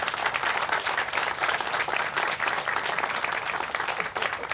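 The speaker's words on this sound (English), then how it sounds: "Yes, a round of applause." Applause from an audience at a groundbreaking ceremony at Wilson Park, a steady dense wash of many hands clapping that carries on evenly for several seconds.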